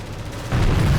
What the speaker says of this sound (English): There's the big explosion that I wanted to hear.